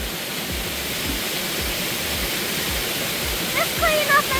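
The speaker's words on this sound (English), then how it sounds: "I got splashed a bit by the waterfall." Waterfall pouring over rocks on a trail in a park in Sydney, Nova Scotia, a steady, dense, close rush of falling water that stays constant throughout, with faint birdsong briefly appearing near the end.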